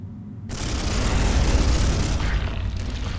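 Weapon fire erupts in the game Space Hulk, a sudden loud blast followed by a sustained roaring, crackling barrage that rumbles low and stays heavy before easing slightly.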